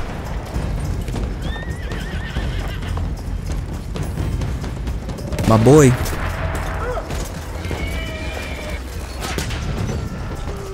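A horse neighs and its hooves clip-clop in a World War I battlefield scene in Battlefield 1, with gunfire and crashes around it. Someone talks over the sound, and a loud whinny rises midway.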